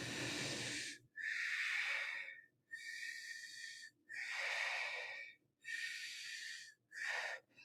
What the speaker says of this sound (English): Then you purse your lips like you're drinking out of a straw, and you do the same movement, breathing in and out.